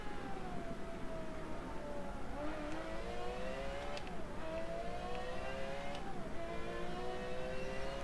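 A Ferrari F50 engine in Forza Motorsport 7 revs steadily and loudly, its pitch repeatedly climbing and dropping through gear changes over a constant road roar.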